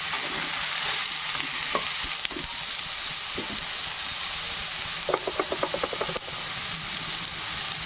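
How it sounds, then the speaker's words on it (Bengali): Eggplant frying in hot oil in a wok gives a steady close sizzle, with a burst of crackling and spatter midway and a few clinks of stirring. "কড়াইয়ে তেল গরম হয়ে গেছে, বেগুনটা ভাজতে দিলাম।"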